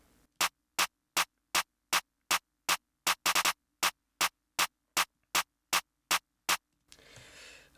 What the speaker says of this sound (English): It's the infamous jerk twerk clap